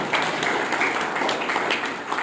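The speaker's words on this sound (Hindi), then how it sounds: "जोरदार तालियां।" Loud audience applause at a Republic Day program, dense and steady throughout, filling the whole moment with sustained clapping from a crowd.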